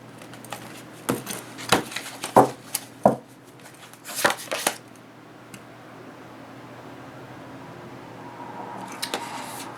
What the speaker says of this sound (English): let's cut the cards and see what we get here.